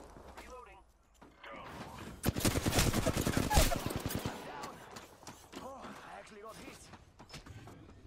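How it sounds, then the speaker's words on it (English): A burst of rapid automatic gunfire in Apex Legends rises mid-clip, loud and clipped shots in quick succession, with scattered quieter shots and game character voice lines around it. "The enemies are shooting at me."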